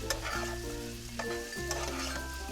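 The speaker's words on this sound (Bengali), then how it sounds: "এটা আমার একটু ভাজা হতে 2 মিনিট লাগবে।" Chopped vegetables including capsicum sizzle steadily in a pan for veg fried rice, with a continuous close frying hiss and occasional stirring clatter.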